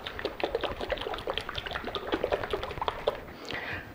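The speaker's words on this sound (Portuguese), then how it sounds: "eu vou colocar uma colher de sobremesa de óleo de gergelim tostado" Toasted sesame oil poured into a small jar for a salad dressing, heard as close, bubbly glugging and trickling that runs steadily before tapering into a softer dribble.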